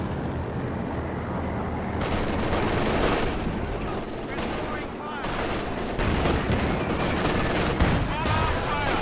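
Dense, continuous machine gun bursts and mortar shots crackle from a WWII strategy video game battle, loud and rapid throughout.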